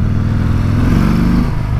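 A motorcycle engine with a 5,000 RPM rev limiter revs up close and loud, rising briefly in pitch and falling back into a throbbing idle.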